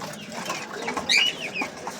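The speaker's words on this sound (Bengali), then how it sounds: "আমেরিকান সিল্কি মুরগি এটা।" An American Silkie chicken clucks softly in short, scattered calls amid the ambient bustle of a bird and poultry market, close and moderately loud.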